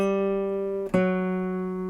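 A sustained guitar note from a quality-notes exercise, held full and round, briefly cut by a short attack before another steady, rich note rings on alone.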